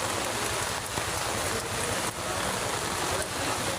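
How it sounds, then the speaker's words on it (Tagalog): Steady, heavy rain patters continuously on hard surfaces nearby during flooding along the Tullahan River, a dense hiss of drops with no pauses. "tuloy-tuloy pa rin ang ulan."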